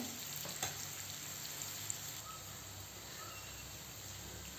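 Onions frying in a pan on a gas flame turned to full heat, a faint, steady sizzle with soft crackles that runs alone through the whole stretch, without any talking.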